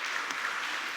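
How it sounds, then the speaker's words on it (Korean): Soft, steady applause from a church congregation during a Sunday service, faint and distant with an even wash of clapping and no distinct voices. "우리 박수하겠습니다"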